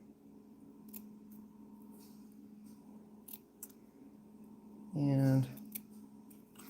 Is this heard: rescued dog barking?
no